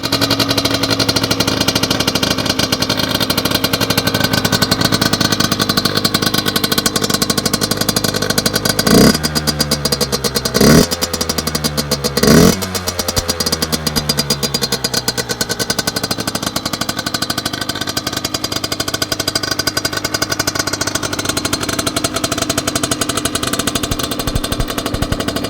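Derbi Senda cross moped with an air box fitted, engine running loud and raspy throughout, with three sharp revving blips in the middle before settling back to a buzzing idle.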